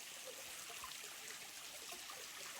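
A trail stream runs steadily after a wet winter, a continuous soft rushing and trickling of water heard at a moderate distance with no voices.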